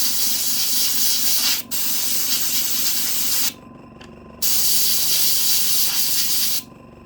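An airbrush hisses steadily as it lightly sprays paint onto the axle boxes of a model Standard 4 locomotive tender. Two sustained bursts are heard, close and even, with a brief break between them.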